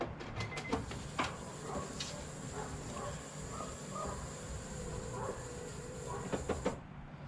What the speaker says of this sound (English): we'll actually go and pull the antenna down and see if it actually sucks all the way down